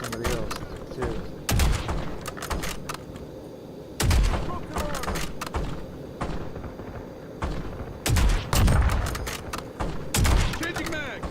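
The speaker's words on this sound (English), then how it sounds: "They're busy shooting somebody else too" Rapid bursts of gunfire in a Call of Duty match, loud volleys repeating every few seconds with booming impacts, a steady background battle din between bursts, and voices talking over the action.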